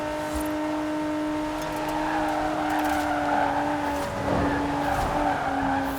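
A Land Rover Velar with a seven-gear all-wheel-drive setup in Forza Horizon 4 accelerates hard for a top-speed run, its steady engine drone holding loud and close with a brief tire-squeal flourish midway.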